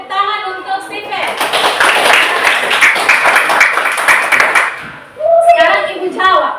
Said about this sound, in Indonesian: Kita kasih tepuk tangan untuk Stephen